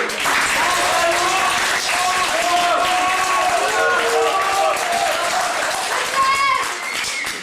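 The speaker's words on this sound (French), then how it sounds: "on peut l'applaudir quand même" Audience applause in a small French theatre troupe's performance hall, clapping for a guest star; dense, continuous clapping fills the room while voices, including children's, carry over it throughout.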